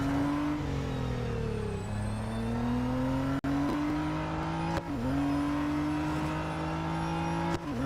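A racing car engine in Real Racing 3 roars steadily at high revs through its exhaust, its pitch rising and dipping as gears shift, loud and continuous throughout.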